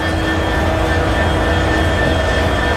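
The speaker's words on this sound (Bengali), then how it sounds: "আর এই যে আমাদের লোকোমোটিভ 6301" Locomotive 6301 of the Banglabandha Express idles at Rajshahi railway station with a loud, constant diesel engine rumble and a steady high whine, unbroken throughout.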